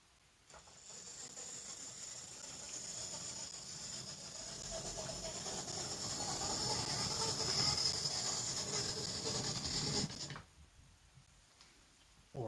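A small model train hums and whirs as it moves along the track, rising slightly in volume before stopping abruptly near the end.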